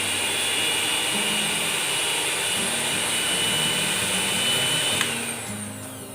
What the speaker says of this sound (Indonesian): Keduanya berjalan dengan suara yang cukup lembut putaran motornya.